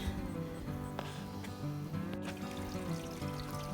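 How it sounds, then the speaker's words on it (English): Small waterfalls trickle and pour steadily along a short portage trail by a lake in the woods, a continuous close rush of running water with no talk over it. "Cute little waterfalls."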